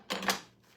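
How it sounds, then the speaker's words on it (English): Two sharp knife chops slice through a head of lettuce on a board for tacos, the crisp crunches close and quick, followed by quieter rustling. "I'm going to cut up enough lettuce here"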